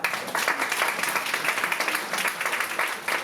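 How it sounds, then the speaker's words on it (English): Scattered audience applause from a group of women, fairly steady and moderately loud, with a few voices mixed in under the clapping. "Applaud."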